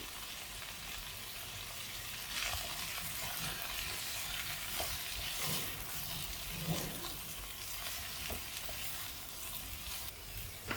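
Cauliflower fries in a pan with turmeric, Kashmiri chilli powder and salt, giving a steady soft sizzle broken by intermittent scraping stirs of a spoon, close and alone.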